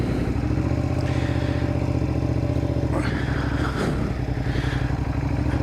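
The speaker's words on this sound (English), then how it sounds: "2005 Suzuki SV650. And every morning, get this thing warmed up here." A 2005 Suzuki SV650 V-twin motorcycle warming up, its engine holding a steady, loud idle rumble throughout with a couple of brief clattery blips, and no one talking.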